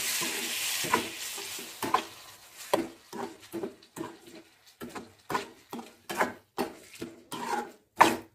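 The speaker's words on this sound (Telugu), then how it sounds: "ఇప్పుడు ఇది పచ్చి వాసన పోయి ఆయిల్ బయటికి తేలేదాకా మనం ఇలాగే కలుపుకుంటూ" A spoon stirs tomato and green chilli chutney frying in oil, with about a dozen regular scraping strokes over a soft sizzle, close and clear with no talking.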